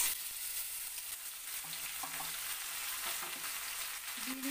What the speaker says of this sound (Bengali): এবার এই যে মাছগুলোকে মশলা মাখানো মাছগুলোকে আমি এই তেলের মধ্যে ছেড়ে দিচ্ছি।